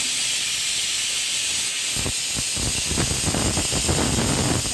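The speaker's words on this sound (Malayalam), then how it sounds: "ഒരു വിസിലടിച്ച് കുക്കർ ഓഫാക്കി" A pressure cooker hisses loudly and steadily nearby as steam escapes, with sputtering bursts rising partway through.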